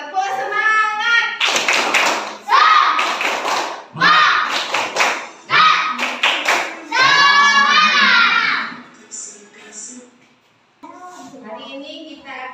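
A classroom group claps a rhythmic class cheer in bursts, their chanting voices mixed with the claps, and speech continues between and after the clapping.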